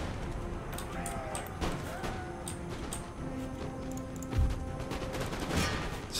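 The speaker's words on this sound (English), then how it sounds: "You get opening shots from the armed tribesmen, get a handful of kills." Armed tribesmen open fire with muskets in an Empire: Total War battle, scattered sharp cracks and a few louder thuds popping irregularly over faint battlefield ambience, fairly distant and quiet.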